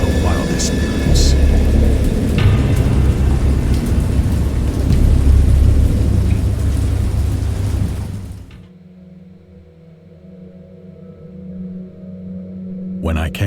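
A thunderstorm sound effect with heavy, dense rain and deep rolling thunder rumbling continuously for about eight seconds, then cutting off abruptly to near silence with only a faint low hum remaining.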